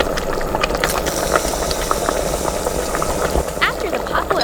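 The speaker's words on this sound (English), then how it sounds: "Put the shrimp in there and wait until it boils." Water comes to a boil in a tiny cooking pot holding shrimp, a close, continuous bubbling and hissing simmer with small pops scattered throughout.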